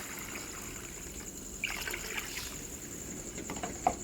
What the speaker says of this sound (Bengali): 2 বাটি ভর্তি জল দিয়ে দেব